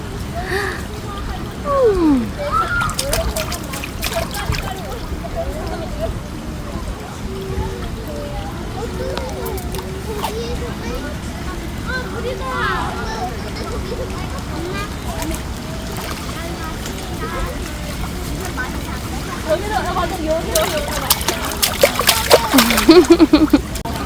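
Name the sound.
splashing in water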